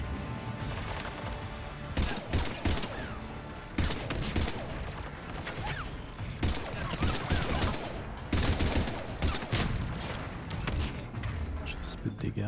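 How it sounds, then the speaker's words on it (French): Gunfire all around in the video game Mass Effect 3: dense, continuous volleys of shots and blasts with sharp impacts, loud and chaotic throughout, while a voice talks over them. "ça tire de partout déjà."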